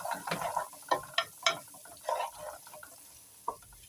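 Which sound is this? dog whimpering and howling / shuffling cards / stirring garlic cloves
stirring garlic cloves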